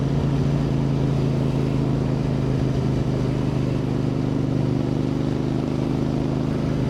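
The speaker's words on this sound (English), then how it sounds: "You can actually hear the exhaust over the airbox." A Voge 625DSX motorcycle fitted with a Scorpion exhaust runs close by, a deep, loud, steady engine note that holds without a break and with no talk.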